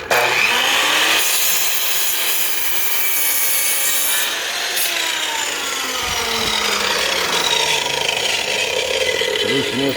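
A handsaw cuts through a piece of wood in steady back-and-forth strokes, close and loud, with rasping friction throughout, while a person speaks intermittently over the work.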